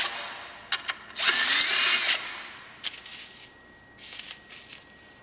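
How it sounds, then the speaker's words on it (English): A power drill backs stock bolts out of a carbon fiber clutch cover: short whirring bursts come in several separate pulses, one longer run in the middle, close and fairly loud with no talking. "now you can take your stock bolts back out"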